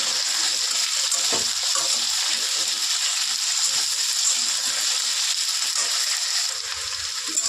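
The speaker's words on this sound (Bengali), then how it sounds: "আলুটা ভেজে নিচ্ছি ভালো করে।" Potatoes fry in hot oil with a tempering of chili and asafoetida, giving a steady, close, hissing sizzle throughout with occasional faint stirring clicks and no talk.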